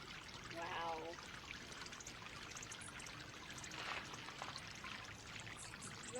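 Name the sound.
water fountain pouring and trickling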